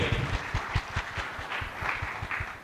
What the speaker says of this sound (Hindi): एक बार जोरदार तालियां हो जाए संजय सर के लिए।